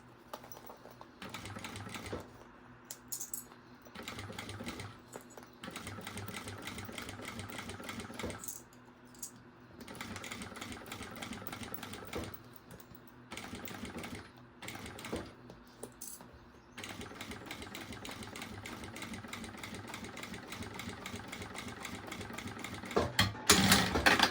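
A sewing machine stitches with nylon 60 thread, running in rapid mechanical bursts separated by short pauses, close and steady, ending with a short reverse stitch, with no speech.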